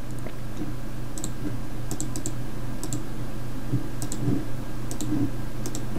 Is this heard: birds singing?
no